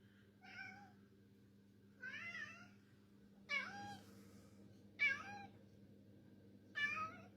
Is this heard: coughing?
no